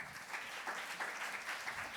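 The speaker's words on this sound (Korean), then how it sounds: "큰 박수로 맞아주시기 바랍니다" Audience applause at a Korean youth scholars' forum debate event, steady clapping of moderate loudness with no talk over it.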